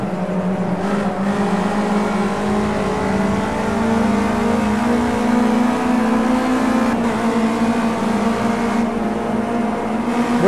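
Race car engine in Project Cars 2 holds a steady high drone throughout, loud and continuous with slight rises in pitch as it accelerates during a race, no talk over it.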